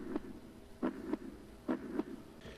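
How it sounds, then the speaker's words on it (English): Heartbeat sound effect for the Frankenstein creature coming to life: quiet, low double thumps repeating in an even, slow rhythm, three full beats with a fourth starting, heard alone. "a heartbeat, a good healthy heartbeat"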